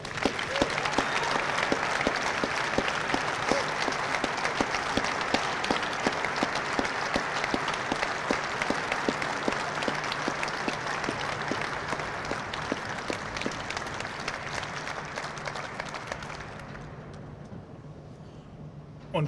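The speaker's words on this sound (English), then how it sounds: "please join me in one more round of applause for Staff Sergeant Germanovich" A large audience at an Air Force Cross ceremony gives sustained, dense applause for an honored staff sergeant, a steady roar of clapping that holds for many seconds before thinning and fading away at the end.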